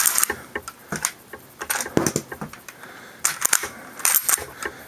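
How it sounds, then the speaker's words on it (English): Remington Model 1100 shotgun bolt worked by hand to eject a round, giving a series of sharp metallic clacks and clicks in uneven bursts, close and dry with no talking. "Pulling the bolt back will eject another round from the magazine, which can be rolled out"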